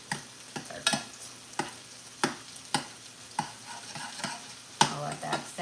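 Corn bread topping simmers and sizzles in a pan with a soft, continuous hiss. A spoon or utensil scrapes and knocks against it at irregular intervals.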